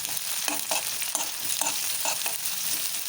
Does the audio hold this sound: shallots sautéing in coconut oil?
yes